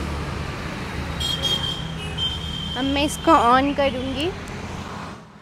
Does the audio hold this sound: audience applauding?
no